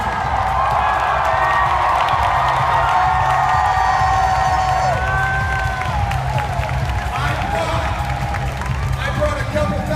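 A huge crowd of a couple thousand people roars and cheers continuously at a crowd-surfing world record attempt, a dense wall of shouting and whooping with scattered claps and high voices on top.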